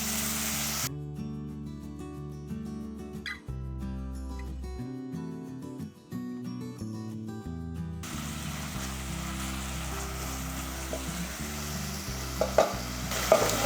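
Sizzling and stirring in a pan as salt and turmeric are sautéed for an egg gravy, a continuous close frying hiss with scraping spoon strokes and occasional clinks, no voices.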